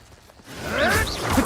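An Incendio fire spell from the Hogwarts Legacy video game whooshes up from near quiet into a bright, rising swish with crackling, flaring tones, brief and fairly close.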